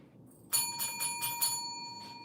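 A small bell rings out suddenly with a bright metallic tone, struck in a quick run of about five rapid dings that fade into a lingering ring, heard alone and fairly quiet.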